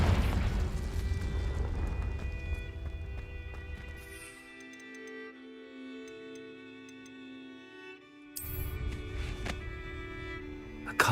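Confringo blasting spell in Hogwarts Legacy, a loud burst at the start fading into ringing magical tones, then a second sharp blast erupting later over a humming musical backdrop.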